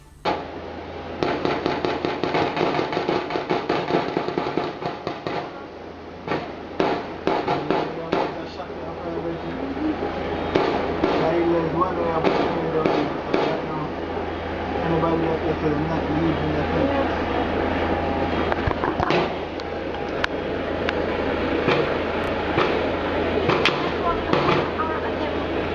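Prolonged gunfire in a neighborhood in West Kingston's Tivoli Gardens: repeated sharp cracks and bursts, some in quick clusters, over a continuous low rumble, with voices audible at times.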